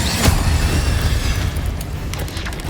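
A fire spell cast in the video game Hogwarts Legacy bursts out as a single loud boom near the start, followed by a low rumbling roar that fades over a couple of seconds.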